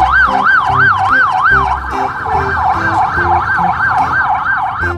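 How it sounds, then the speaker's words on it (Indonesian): Toy police car siren, a loud electronic wail sweeping rapidly up and down in a steady repeating cycle, with a rhythmic electronic beat underneath and no voices. "Widih, mobil polisi."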